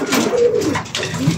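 Racing pigeon cooing close by in a Batangas loft, a soft rolling coo repeated twice over about a second and a half, with no voices.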